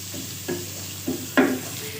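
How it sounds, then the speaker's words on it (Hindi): Three medium sliced onions frying in a pan until transparent, a soft background sizzle punctuated by three quick spatula scrapes and stirs. "अब हम इनको अच्छी तरह से ट्रांसपेरेंट होने तक भूनेंगे।"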